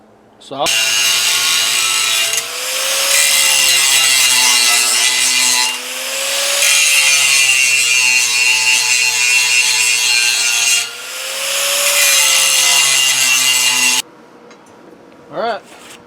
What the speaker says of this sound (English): now I'm just going around with a file and you know, smoothing up the edges